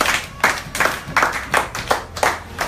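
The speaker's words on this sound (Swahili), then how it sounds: "Hebu tupige tena makofi kwa ajili ya Bwana." A church congregation at a Bible study claps in a steady rhythm, about eight sharp, evenly spaced bursts of clapping in a row, with no talking.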